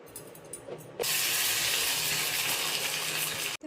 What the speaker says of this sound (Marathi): थोडेच आता मी तळते.